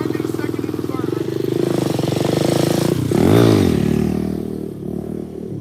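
Mini motorcycle revving hard through gear shifts while held in a wheelie, the engine note climbing, dropping at each shift and climbing again, loud and close.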